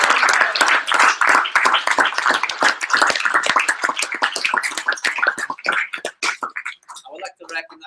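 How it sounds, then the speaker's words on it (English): Audience at a 10K Alliance members' meeting claps and applauds together, a dense burst of many hands that holds steady for several seconds, then thins out and fades into scattered claps as a voice returns at the end. "We recognize and big round of applause to each other and to our other 10K Alliance members."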